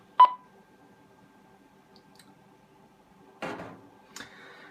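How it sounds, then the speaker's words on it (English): An Icom IDAS digital radio gives a single short beep on dekey, a crisp isolated pip at the start, followed by quiet and a couple of brief handling clicks and rustles. "And a single beep then on these two radios."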